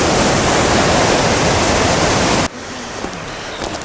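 Water rushing through a jungle irrigation channel on a trek near Chiang Mai, a loud dense wash of flowing water that suddenly drops to a quieter trickle partway through.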